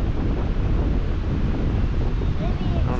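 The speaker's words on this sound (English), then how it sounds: "Just like it is windy." Steady, loud wind buffets the microphone throughout on a site where pine trees are being cleared with a mulcher and grapple, with no clear voices.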